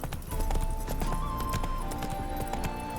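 Horse hooves clip-clop steadily in The Witcher 3 as the mount trots along, loud and rhythmic over a continuous game music and ambience bed.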